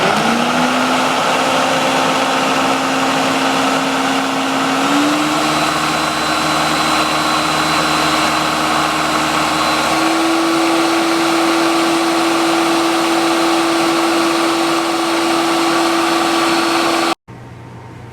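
Countertop blender pureeing fresh garden peas and mint, a loud steady motor whine that steps up in pitch twice as speed rises, running continuously before cutting off abruptly near the end.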